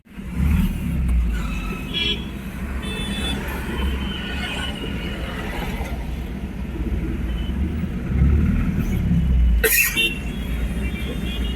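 Road traffic rumbles along the IT road near the SIPCOT park in Navalur, a dense, constant low drone of vehicles close by. A short sharp knock cuts through near the end.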